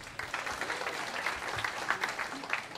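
An audience applauds cantor David Weinbach at a Hasidic cantorial choir concert, with dense, steady clapping from a sizeable crowd filling the hall for several seconds.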